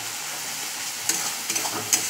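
Thick fish curry masala for kosha macher jhol stirred in a hot pan, a steady frying sizzle broken by a few scraping strokes of the spoon, close and fairly loud, no voices.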